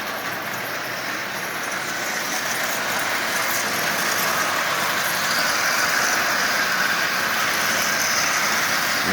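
A Marx 666 toy steam locomotive with an eight-wheel tender runs around its track pulling 22 cars, giving a steady, continuous rolling whir and rattle throughout with no talking.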